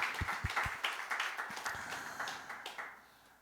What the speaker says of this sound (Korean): 하나님 앞에 감사의 박수 한번 드리며 시작하십시다.